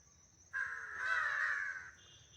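A wild crow gives a single drawn-out caw, clear and fairly close, rising then fading over about a second and a half against quiet outdoor background.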